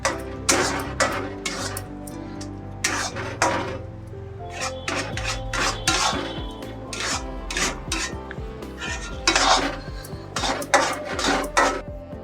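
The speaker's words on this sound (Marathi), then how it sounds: "असं चांगला ढवळून घ्यायचा आहे तो." A spoon stirs mango semolina sheera in a metal pot, producing repeated close scraping and clinking strokes against the pot in an irregular rhythm throughout, with no talking.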